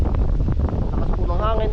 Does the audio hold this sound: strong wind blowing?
yes